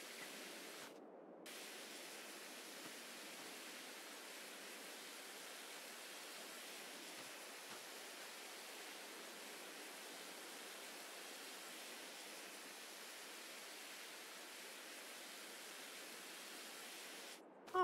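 A pressure washer sprays water in the farming video game Farming Simulator 22, giving a steady broadband hiss that runs unbroken and fairly faint throughout, with a brief gap near the start.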